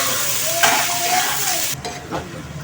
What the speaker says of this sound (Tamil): வெங்காயம், கருவேப்பிலை எல்லாம் போட்டுருக்கேன். வெங்காயம் வதங்கி போட்டுருங்க.